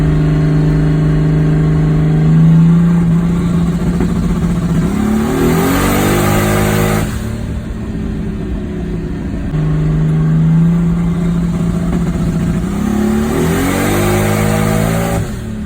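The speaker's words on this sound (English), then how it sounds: "I was kind of playing with rolling two-step, just dropping it into second gear and just standing on the two-step at 35 and launching it from a roll" Datsun 280ZX dropped into second gear and held on a rolling two-step launch, the engine sitting at a steady stuttering limiter drone, then surging and climbing through the revs twice, loud and close with no talk.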